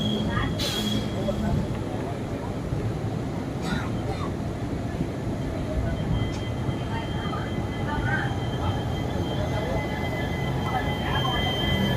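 Salem-Karur-Trichy passenger train rolling into Rasipuram station, a steady loud rumble of wheels and carriages throughout with occasional brief squeals and clanks, and a voice talking over it.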